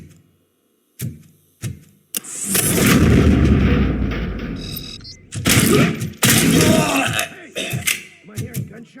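Gunfire and heavy booming blasts in the RoboCop: Rogue City video game, loud bursts after sparse clicks, with a sustained barrage in the middle, further sharp shots and clanking mechanical sounds, and game character voices mixed in.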